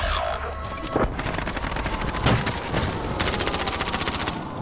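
Rapid video game gunfire rattles in repeated automatic bursts, with sharp booming shots early on and a fast, steady stream of rounds near the end, loud and close throughout.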